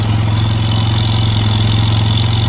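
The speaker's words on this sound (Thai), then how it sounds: "ติดแล้วประมาณนี้ครับเครื่องเร่งเองแบบนี้ครับ" A Yamaha Mio 125 scooter engine idles high and revs on its own, a steady close droning hum with a fast regular pulse, loud and continuous with no voices.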